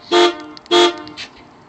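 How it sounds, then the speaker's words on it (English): Two loud blasts of a tri-tone air horn, each about a quarter second, the second following shortly after the first, with a fainter echoing tail. "There's our tri-tone air horn"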